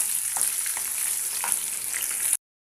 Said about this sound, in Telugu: కొన్ని మిరపకాయలు కరివేపాకు వీటిని కూడా వేసుకోండి రెండు ఒకసారి కలవేసేసి లైట్ బ్రౌన్ కలర్ వచ్చేంత వరకు వేగనివ్వండి